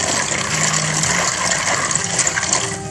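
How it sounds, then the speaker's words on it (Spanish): Water poured steadily into a bowl while preparing homemade vanilla ice cream, a continuous loud splashing gush that runs unbroken for a few seconds and thins slightly at the end, close by with no talking. "acá también voy a poner agua"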